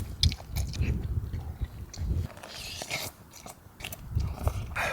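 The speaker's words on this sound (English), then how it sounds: "I'm sorry if you're squeamish about eating noises" Close, intimate chewing and biting of warm spicy salmon inside a tent while camping, soft wet crunches and squishes repeating irregularly in a quiet setting.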